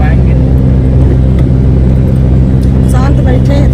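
A car's engine hums steadily from inside the cabin, low and loud, on a hot sunny day, with faint voices over it near the end.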